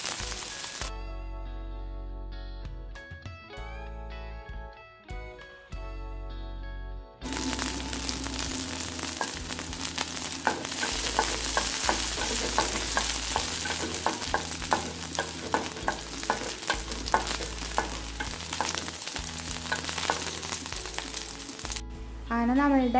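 Chopped small shallots are sautéed in a pan until reddish: a dense crackling sizzle with stirring scrapes follows a stretch of music, and the frying stays loud and continuous.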